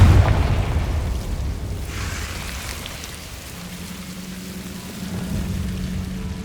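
A Confringo fire spell explodes in the Hogwarts Legacy catacombs: a deep rumbling boom hits at the start, then fades into a dark crackling, rain-like ambience with a low steady hum emerging later.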